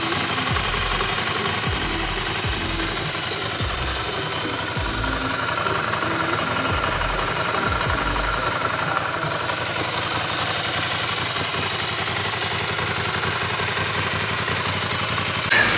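A Ducati Scrambler motorcycle engine idles and runs steadily after a shift pin and pedal replacement, with a continuous loud mechanical drone and a rhythmic low knocking pulse through the first half.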